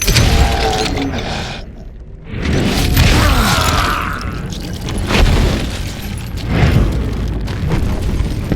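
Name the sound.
explosion in a mine in Call of Juarez Gunslinger video game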